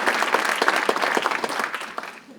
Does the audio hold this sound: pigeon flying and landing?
no